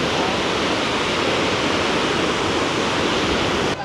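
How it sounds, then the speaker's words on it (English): Victoria Falls in Zimbabwe roars as a steady, loud broadband rush of falling water heard up close from the rainy spray side, continuous and unbroken throughout. "So we finally gotten to the side of the waterfall where it's raining."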